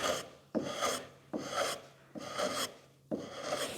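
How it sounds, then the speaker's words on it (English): The flat of a chisel rasps across wooden staircase parts to smooth them, five long scraping strokes with short pauses between, close and moderately loud with no voices. "use the flat of the chisel to make it super smooth"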